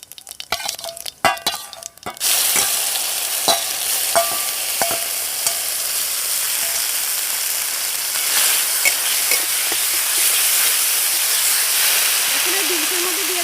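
Ground beans dropped into hot oil tempered with asafoetida and whole cumin burst into a loud, steady sizzle after a few clattery stirring knocks, the frying hiss continuing close and unbroken, with no talking.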